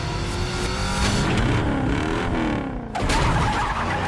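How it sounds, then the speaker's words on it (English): A stunt car spins its wheels on a wet, slick floor during a take-off for a film chase scene, a loud engine roar with tire squeal rising and holding, briefly easing, then surging again. "So when he went to take off, he got a ton of wheel spin."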